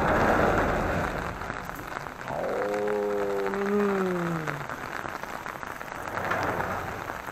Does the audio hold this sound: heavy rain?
yes